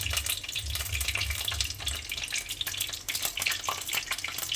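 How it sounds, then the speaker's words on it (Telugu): Spices tempering in three spoons of hot oil for an onion and red chilli karam, a steady close sizzle and crackle with bursts of spattering, no voices. "త్రీ స్పూన్స్ ఆయిల్ వేసుకొని తాలింపు పెట్టుకుందాం"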